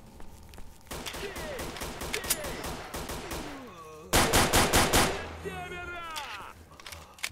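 Gunfire in S.T.A.L.K.E.R.: Shadow of Chernobyl: rapid automatic bursts and single shots crack throughout, with a loud, dense burst near the middle, mixed with shouting voices and game ambience.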